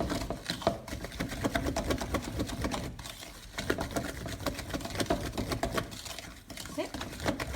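Cake batter is hand-mixed in a bowl for a VE Day cake, a steady, dense scraping and patting of spoon against bowl that runs close and continuously, with brief pauses.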